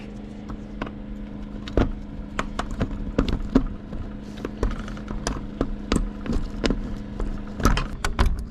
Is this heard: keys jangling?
yes